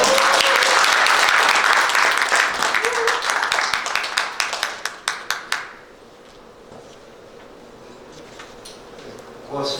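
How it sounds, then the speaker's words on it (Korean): Enthusiastic applause greets an explorer at the launch ceremony for his book "Asian Highway 6", loud and dense at first, then thinning into a few last scattered claps before the room goes quiet. "뜨거운 박수로"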